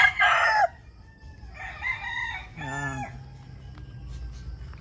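Backyard chickens with a rooster crowing loudly and close at the start, followed by softer clucks and calls from other fowl in a quiet yard.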